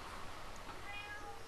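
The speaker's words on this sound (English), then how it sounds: "Hi, cat." A house cat gives a faint, brief meow under a constant low hum, fairly distant and quiet.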